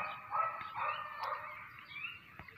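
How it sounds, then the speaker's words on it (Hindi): Dogs barking and scuffling in a fight somewhere behind, faint and distant, with a few scattered yips and growling barks running through the short stretch. "यहाँ पे पीछे कुत्ते हैं लड़ रहे हैं आपस में"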